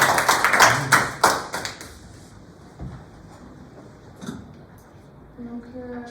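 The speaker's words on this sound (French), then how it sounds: "Vous pouvez applaudir." Students in a classroom clap in a short burst of a few hands, quick irregular claps that stop after about two seconds, followed by quiet room sounds, light knocks and a voice starting to speak.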